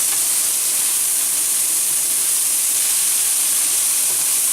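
Salisbury steak patties seasoned with salt and pepper brown in a hot pan, giving a steady, even sizzling hiss that continues without a break.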